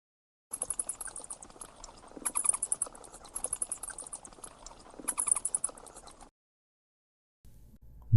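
Bat calls repeat as rapid high-pitched chittering and squeaks in short rhythmic bursts, close and fairly clear, stopping before a moment of silence and a brief faint tone at the end.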